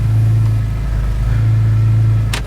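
A BMW E46 M3 with the S54 engine idles during an oil change, a loud steady low rumble close by that holds level throughout, with a brief metallic click near the end.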